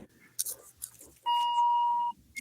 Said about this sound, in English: That's the alarm that someone's in the backyard